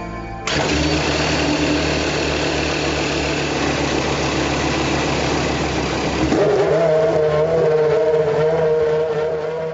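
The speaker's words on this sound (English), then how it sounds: "When the engine starts, it idles at the same speed as the rest of us drive at." A Formula One car engine bursts into life with a loud, high-pitched roar, runs hard, then settles into a fast, buzzing idle close by.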